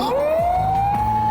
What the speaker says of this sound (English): Just as I begin to pry, a shrill siren shatters the night.